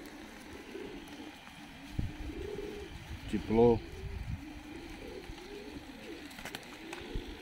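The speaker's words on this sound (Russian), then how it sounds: "посидеть с голубями" Tumbler (boiny) pigeons in a sunny courtyard in Tbilisi, Georgia, in early February give a short burst of soft cooing midway through, over steady outdoor background noise, with a person speaking briefly.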